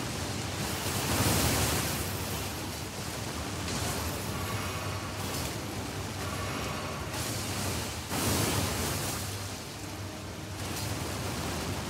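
A steady rushing waterfall in Elden Ring, a broad continuous roar of falling water with slight swells in loudness, heard close and without voices.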